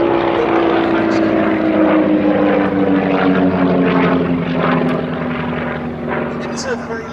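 A Percival Provost T.1 piston-engined trainer aircraft drones overhead with a steady propeller hum whose pitch slowly falls as it passes, loud and continuous; someone talks over it.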